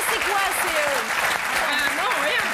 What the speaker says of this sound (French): Alors on va les réapplaudir parce que Michel a l'invité.